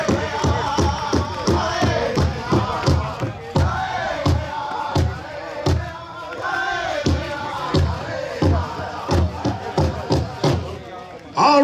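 Audience at an outdoor pow wow applauding and cheering after the teen women's jingle dress contest, with rapid rhythmic thumps, whoops and a loud voice over a PA cutting through the crowd noise.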